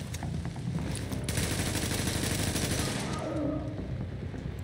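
Rapid bursts of automatic gunfire and repeated shots crackle densely in a subway setting in The Division, a sustained close fusillade with a brief louder volley in the middle.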